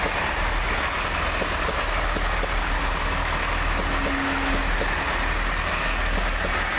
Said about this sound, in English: Well, hang on then, what's this train doing?